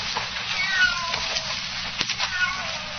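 A cat meows in an old-time radio detective drama, muffled and thin through a lo-fi, hissy broadcast sound, with a short sharp noise partway through.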